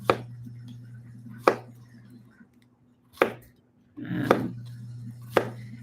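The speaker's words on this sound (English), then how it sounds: "And you're just going to cut them all." A knife cuts through zucchini on a cutting board, giving four sharp, separate chops spaced about a second or more apart, each a crisp thud, with a short rustle of pieces between them and a low steady hum beneath.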